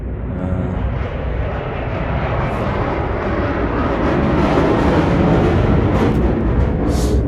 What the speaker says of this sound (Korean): 비행기가 날아가는 소리입니다